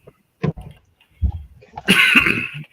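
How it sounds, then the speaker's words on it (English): Several dry, close coughs in short bursts, separated by brief pauses, ending in a harsher, raspier hack. "I'm still recovering from a slight cough"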